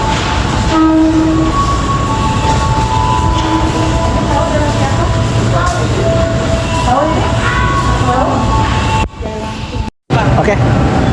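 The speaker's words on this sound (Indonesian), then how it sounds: "Keretanya sudah ada di bawah." Local Merak commuter train standing at an Indonesian station, with a steady rumble of idling rail cars, brief horn-like tones and clanks over a busy platform hum. Faint voices mingle in the background before a sudden cutoff near the end.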